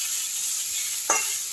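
Chopped tomatoes and two slit green chillies fry over sautéed onions in a pan, giving a steady, even sizzle, with one brief stir or scrape near the end.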